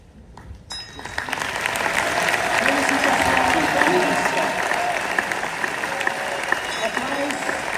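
A ceremony crowd at the closing of the 5th CISM Military World Winter Games in Lucerne bursts into applause after a brief quiet start and keeps clapping steadily, with some voices mixed into the crowd noise.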